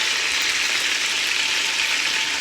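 Chopped onions hit a hot pot for chicken and green chile posole, giving a steady, close, loud sizzle with a bright hiss and no speech.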